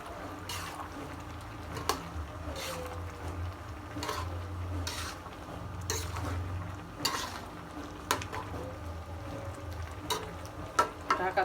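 Eggplant frying in oil gives a steady, low sizzle that runs throughout, with occasional soft clicks and stirring knocks from the pan.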